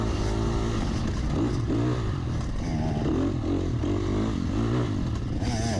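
Dirt bike engines roar continuously at a race start on a Cajun Classic off-road course, loud, revving and close, with clattering mechanical noise and rising pitch as the bikes pull away together.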